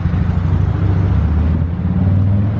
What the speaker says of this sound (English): start it up, and let you listen to the exhaust sound.